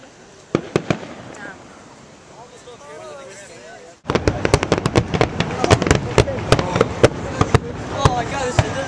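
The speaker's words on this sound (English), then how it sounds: "the finale, you hear it, constant sounds like gunshots" Fireworks finale at a display: a dense, constant run of sharp bangs and cracks like gunshots, loud and close, following a quieter stretch with a few scattered pops and voices talking.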